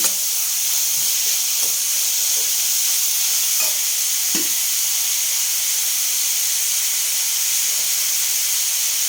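Onions frying in a pan, a loud steady hiss and sizzle throughout with a few faint spoon taps early on, and no talking.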